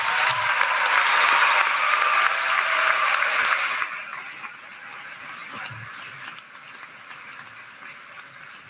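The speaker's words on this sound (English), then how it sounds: "Let's give our band a round of applause." Audience applause for the school band at a high school graduation ceremony, a loud sustained clapping from a large crowd that fades down to a lighter patter of scattered claps toward the end.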